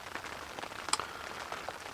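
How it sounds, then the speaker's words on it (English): Rain falling at a carp fishing lake, a steady soft patter of drops on surfaces with scattered brief ticks, fairly faint and continuous, no voices. "it's raining again"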